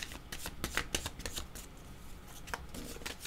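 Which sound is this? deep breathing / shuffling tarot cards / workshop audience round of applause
shuffling tarot cards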